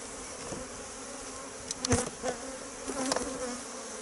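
Honeybees buzz around an open beehive during a spring honey check, a steady dense hum with a few closer passes swelling louder near the microphone.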